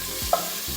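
Bacon frying in a pan for collard green and ham hock soup, a soft steady sizzle with a faint stir and a small metallic tick, close and quiet.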